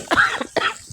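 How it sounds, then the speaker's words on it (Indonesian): Two harsh coughs in quick succession, close and fairly loud, from a woman with an itchy throat while stir-frying spinach in a kitchen, with no talk over them. "Maafkan aku yang terkekeh-kekeh batuk, habis tenggorokannya gatel beb."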